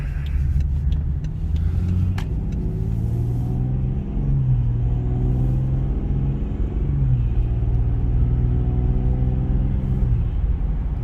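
A tuned 2019 BMW 440i xDrive Gran Coupe engine drones steadily with low rumble on a freeway, its pitch rising in stepped surges as it accelerates through gears, with road noise throughout.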